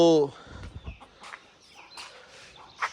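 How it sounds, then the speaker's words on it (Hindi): A hen clucks loudly at the start and chicks peep faintly afterward in a backyard coop, with someone talking over the birds. "ये अब मेरी सारी हसीन मुर्गियाँ रह गई हैं और वो दो दूसरे गोल्डन चूचे रह गए हैं।"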